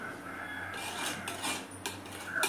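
A spoon scraping and clinking against a pot while coconut curry (kuzhambu) is stirred, in a steady run of rasping strokes with no voices.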